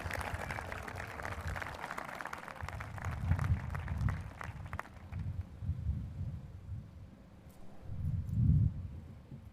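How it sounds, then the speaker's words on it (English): Scattered applause from a crowd at a commencement ceremony fills the first half, then fades into a low, rumbling room murmur. "please join me in another round of applause and recognition to these dedicated professionals"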